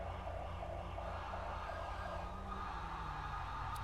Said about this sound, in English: the lights and sirens are probably heading toward that way